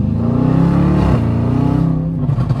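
A loud car exhaust, illegally loud, revs hard and steady, dipping briefly before climbing again, with a deep throaty popping rumble close by.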